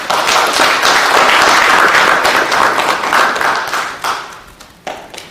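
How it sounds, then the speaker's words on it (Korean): Congratulatory applause rings out at an award presentation during a wild ginseng promotion event at the National Assembly, loud close clapping from a crowd that swells steadily, then thins into scattered final claps. "축하의 박수 부탁합니다."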